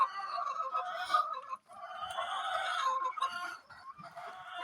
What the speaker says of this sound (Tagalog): Naata diri sa to ang manok.